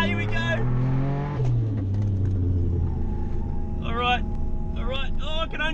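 A Nissan Fairlady Z with an RB26 engine drifting on a race track, its engine holding a loud, steady rumbling drone heard from onboard while someone talks excitedly over it.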